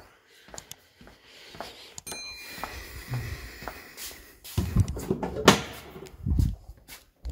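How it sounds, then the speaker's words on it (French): A car hood being released from inside and lifted during a repair, heard as a sharp latch click followed by several dull, close clunks and rattles of the panel. "on déverrouille le capot"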